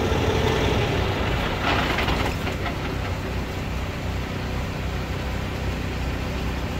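Generator mounted on a semi truck running steadily close by, a continuous broadband hum and rumble with no talking.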